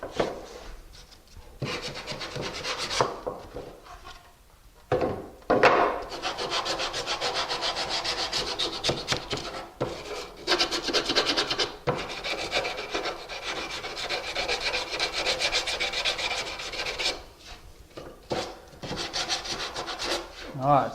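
Hand sanding with sandpaper along a wooden window jamb extension to knock off rough burrs, a steady back-and-forth scratchy rasp in close bursts with short pauses between strokes, no talking.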